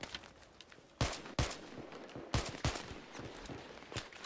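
Battlefield 3 gunfire heard from a little distance: several sharp, spaced shots and short bursts crack out over quiet background noise, uneven in rhythm and moderately loud.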